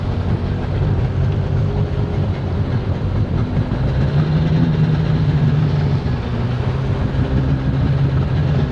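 The 800 engine of a 1996 Sea-Doo XP personal watercraft runs at a loud, steady idle close by, a deep rumbling drone with a slight rise in pitch partway through, and no voices.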